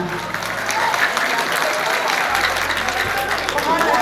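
Audience applause at a mushaira poetry recital in Dubai, a broad steady wash of clapping from a large crowd that carries through the whole stretch, with a low hum beneath it.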